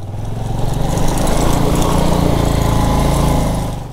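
A Bajaj Avenger motorcycle fitted with a 140-section off-road rear tyre climbs an uphill dirt road, its engine droning loud and close in a steady, throbbing rumble that swells and holds for the whole stretch.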